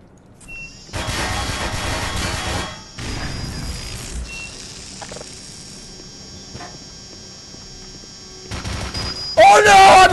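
Weapons fire in the video game Black Mesa, heard as several loud, dense bursts of gunshots separated by quieter stretches of electronic hum, with a sharper burst near the end.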